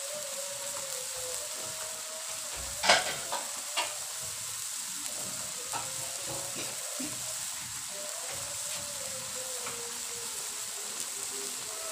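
Kikil (beef tendon) is stir-fried with spices in a pan and has had water added. A continuous moderate sizzle runs under intermittent scraping stirs, with one sharp clank early on.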